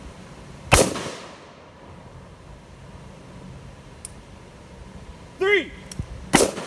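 Two sharp, loud reports from a Kel-Tec RDB rifle crack out about six seconds apart at a shooting range, with someone shouting a count just before the second shot.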